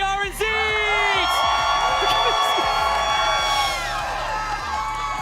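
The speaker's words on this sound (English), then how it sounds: "Can I get a huge round of applause representing Brazil?" A crowd at a Fortnite esports tournament cheers and whoops, with rising shouts and yells swelling early and then easing slightly while clapping and voices blend together.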